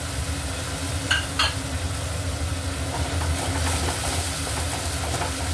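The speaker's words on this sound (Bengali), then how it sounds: "রসুন আর লঙ্কা বাটাটা দিয়ে দিলাম, ভালো করে কষে নেব" A paste of garlic, chili and ginger sautéing in a pan gives a steady, moderate sizzle with a low continuous hum underneath and a couple of brief clinks from stirring.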